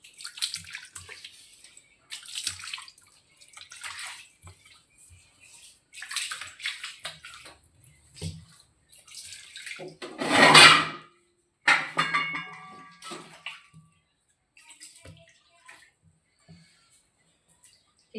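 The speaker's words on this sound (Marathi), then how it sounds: "आता किचन धुवून घ्यायला." Water splashes and sloshes in scattered bursts as a kitchen floor is washed, with one louder pouring rush near the middle and quiet scrapes and drips in between, close and uneven, no talk.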